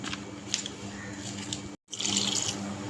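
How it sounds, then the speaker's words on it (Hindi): Water pours steadily into a bowl of besan (gram flour) batter nearby, a soft continuous splashing stream that briefly stops and resumes. "पानी मैंने 2 कप डाल दिया है इसके अंदर।"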